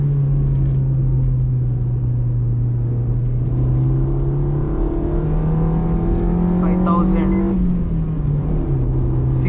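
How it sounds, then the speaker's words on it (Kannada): A 2020 Maruti Swift VXi petrol engine revs hard in second gear, its steady drone climbing in pitch over several seconds before it eases off and settles into a lower hum. It sounds close and continuous throughout. "ಸೆಕೆಂಡ್ ಗೇರ್ ಭಾಳ ಸಖತ್ತಾಗಿ ಕೇಳೋ ಶಬ್ದ."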